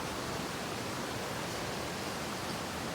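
A mountain stream flows beside a hillside cafe in the rainy season, heard as a soft, even rush of water with no other sounds.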